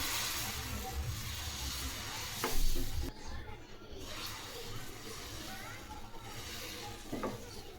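Batter for a fasting dosa cooks on a hot tawa with a continuous soft hiss, a brief scrape of the pan near the middle and a quieter sizzle afterward.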